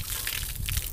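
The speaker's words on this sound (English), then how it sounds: "Fill it up with some water. Swish it around." Water sloshing and gushing inside a custom stainless steel gas tank for a monster mower as it is swished around, a steady close liquid churn without speech.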